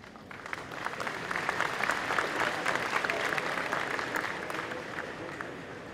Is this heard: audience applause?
yes